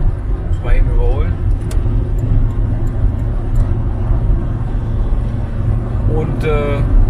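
A car drives along a road and overtakes another vehicle, giving a steady, loud rumble of engine and road noise while a voice talks over it.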